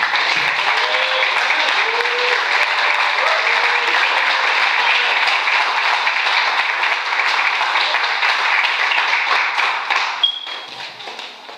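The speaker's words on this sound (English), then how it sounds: "please give a round of applause for Reagan Ekundayo" A crowd at a reading event applauds an author, steady, dense clapping that runs nearly the whole time and thins out near the end, with a few faint voices underneath.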